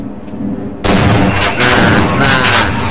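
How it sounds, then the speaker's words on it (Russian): A turret fires in the Half-Life video game, bursting in abruptly and loudly with rapid, dense gunfire that continues without letup to the end. "Турелька."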